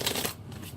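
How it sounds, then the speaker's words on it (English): A brief, soft riffle of tarot cards being shuffled, a quick papery flutter that fades into quiet room noise. "I'm going to shuffle some more."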